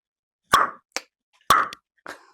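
A person imitates a hammer striking wood with their voice, giving two sharp knocks, each answered by a softer echo-like tap, all sounding close and alone.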